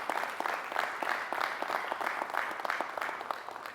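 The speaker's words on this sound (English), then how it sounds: "So I wanted you to give a round of applause to the brothers that take this conversation." Steady audience applause fills a hall at a panel discussion on racism in America, a dense wash of many hands clapping close and continuous throughout, with no voices over it.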